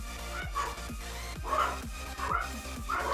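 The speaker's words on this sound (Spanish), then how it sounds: "Los perros siguen ahí, tío." Dogs bark repeatedly in a steady, rhythmic run of sharp yips over a constant low background hum, moderately loud and without talk.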